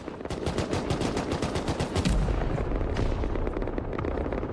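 Rapid cannon and gunfire from a naval battle in the video game Albion Online, a dense, loud barrage of overlapping booms and bursts with a heavy low impact near the middle.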